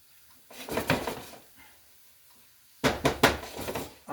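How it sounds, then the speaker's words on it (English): Cauliflower rice being stirred through sauce in a pan, with two bursts of utensil scraping and clatter against the pan separated by a quiet pause, close and moderately loud. "Now I want to get this all stirred together"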